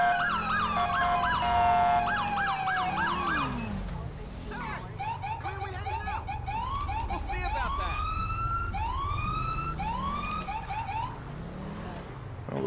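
Emergency sirens in the police game LSPDFR wail continuously, with a wavering yelp at first and then repeated rising whoops, over steady engine rumble and road noise.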